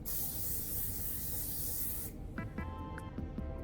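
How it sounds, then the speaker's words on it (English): An aerosol can of makeup setting spray hisses in one long, loud, steady burst for about two seconds, then cuts off, followed by faint handling clicks and rustles. "I did get this like new setting spray for makeup. I know you don't like the sound of it. It's aerosol."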